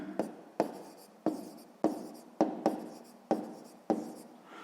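Pen or pencil strokes on paper while a math solution for a sixth-grade exercise is written down, about eight sharp scratchy bursts in an uneven rhythm, close and fairly quiet, with no talking.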